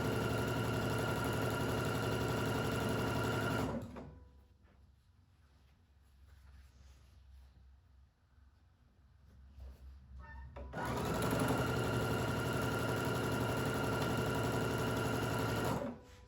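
A sewing machine chain-stitches quilt rows and columns together in a steady mechanical whir, loud and continuous at the start and end with a quieter pause between runs.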